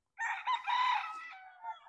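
A Boston Roundhead cockerel lets out a single clear crow close by, rising and wavering for nearly two seconds against otherwise quiet surroundings.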